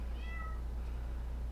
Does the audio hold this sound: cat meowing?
yes